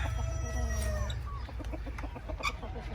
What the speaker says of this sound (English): So there's a rooster there and 3 pullets.